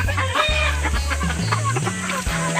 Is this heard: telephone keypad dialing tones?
no